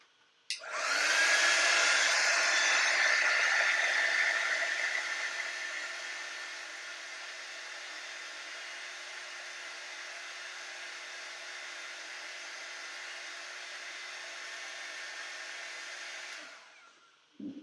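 A hair dryer blows steadily on a painted pumpkin craft project, switching on with a loud rushing whir that drops to a lower, softer setting after a few seconds and runs continuously before cutting off.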